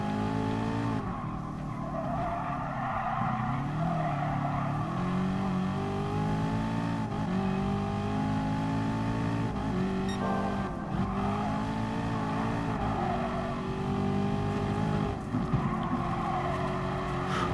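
Race cars drive in Gran Turismo Sport in a Clubman Cup league race, with a steady loud engine drone whose pitch rises and dips through gear changes and corners, with tire squeal and skids along the way and no talking.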